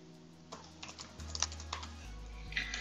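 Soft, quick keystrokes tap on a computer keyboard in irregular bursts, close and fairly quiet above a low steady hum.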